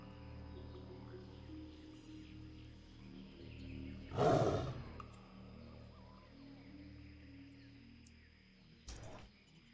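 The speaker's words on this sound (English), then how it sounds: "Thought I heard a tiger, so I rushed back." A tiger roars in World of Warcraft, one loud burst in the middle of quiet ambient game background, followed later by a shorter, fainter growl.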